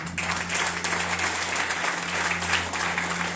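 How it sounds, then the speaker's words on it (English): A church crowd applauds steadily for several seconds, a dense, even wash of clapping heard from within the room. "Come on, clap for her."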